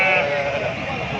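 A sheep bleats loudly and close by at a weekly livestock market, a single drawn-out call.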